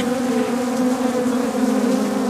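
Bees hum in a dense, continuous drone at a beekeeping site in the Butembo area of North Kivu, loud and close with a steady pitch and no voices.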